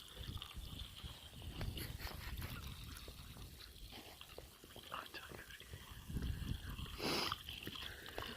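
Two-stroke fuel mix trickles steadily as it is poured, a close, continuous liquid stream with faint background noise and no talking.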